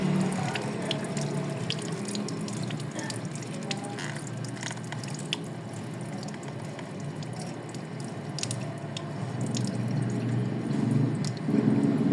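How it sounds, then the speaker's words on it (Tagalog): Water draining out of an opened container, a steady running and splashing flow with scattered drips and small clinks, moderately loud and close, no talk. "So, i-drain ko na siya."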